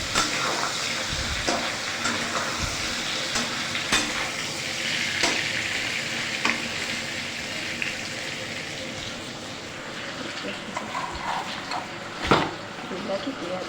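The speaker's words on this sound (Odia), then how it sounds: "ଆଳୁ ପକେଇ ଭାଜିଛି" Potatoes fry in oil in a pan for a prawn curry, a steady close sizzle beneath a voice talking, with several sharp clacks and scrapes of a spatula and one louder knock near the end.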